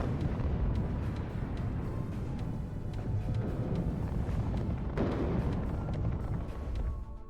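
Cluster munitions and artillery in the game WARNO pound away as a continuous dense roar of overlapping explosions and booms, with sharper cracks scattered throughout and no pause.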